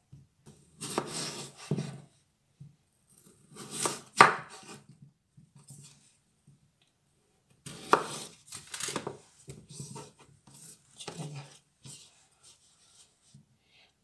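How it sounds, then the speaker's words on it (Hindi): A knife cuts three potatoes into thick chips for homemade fish and chips. Close, crisp chopping strokes on a board come in irregular bursts separated by short pauses. "मैंने जी 3 आलू लिए हैं तो अब मैं इनको काट लूँगी कि इनके चिप्स बनाने।"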